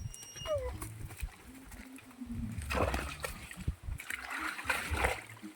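A water buffalo splashes and sloshes in a pond or river, with irregular bursts of churning water close by, while people talk and call out over it.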